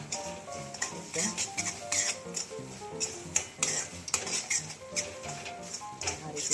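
Semolina roasting in ghee as a spoon stirs it, giving steady scraping and clinking against the pan in a quick repeated rhythm, close and fairly loud, with a soft sizzle underneath.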